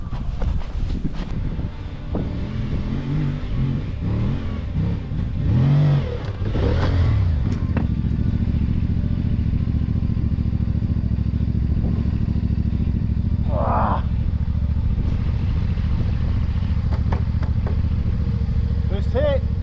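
A CFMOTO 450MT adventure motorcycle idles and rumbles on an off-road training track, then steadily drones at close range as it climbs toward and rides over a large log, with wind buffeting the microphone throughout.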